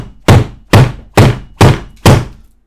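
Five loud, evenly spaced thuds of a hand banging on a SonicModell AR Stealth Wing, a molded EPP foam flying wing, each hit sharp and close with a short decay.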